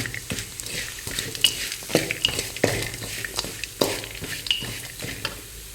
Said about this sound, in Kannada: ಬೆಲ್ಲ ಹಾಕ್ಕೊಂಡು ಚೆನ್ನಾಗಿ ಫ್ರೈ ಮಾಡಿ